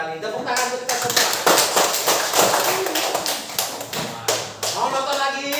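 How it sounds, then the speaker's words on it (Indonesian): Classroom applause from primary school pupils, a dense patter of many hands clapping steadily and fairly loud, with a brief voice breaking through partway. "Tepuk tangan untuk kita semua."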